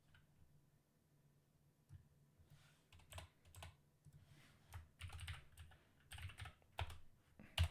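Typing on a computer keyboard, with quiet irregular clicks that start sparse and build into faster bursts of keystrokes, fairly close but soft.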